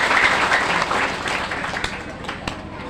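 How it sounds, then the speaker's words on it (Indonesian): An audience applauds at a religious lecture gathering in Musi Rawas, Sumatra: a steady patter of many hands clapping, fairly loud and close, thinning slightly toward the end, with a voice speaking over it. "Tepuk tangan untuk Pak Camat dan Ibu Dewan."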